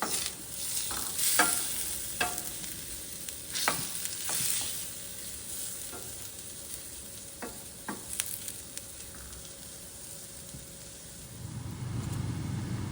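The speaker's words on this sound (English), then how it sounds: "And then we will sprinkle in the flour and stir constantly for 1 minute." A spoon stirs all-purpose flour into a chicken pot pie filling in a pan, giving soft scraping strokes and light clinks at an uneven pace over a faint steady sizzle, fairly close and alone.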